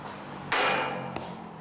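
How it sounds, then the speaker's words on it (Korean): A single sharp hammer strike rings out on steel while freeing a connecting pin from a 30 m tower crane jib lying on the ground, with a metallic ring that decays slowly over steady background noise. "지부 연결핀을 해체하는 망치 소리도 경쾌하다."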